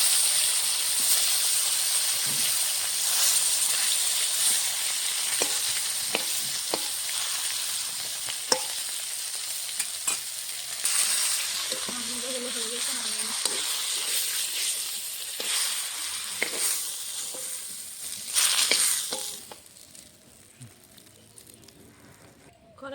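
Pieces of rohu fish fry in hot oil: a continuous crackling sizzle with scattered pops and stirring sounds, easing toward the end, with a brief voice partway through.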